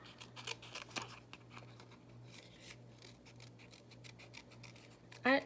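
Scissors snip out fabric or paper pieces close by in a quiet room, a few crisp cuts and scrapes scattered through the stretch with a sharper rustle at the end, no talking.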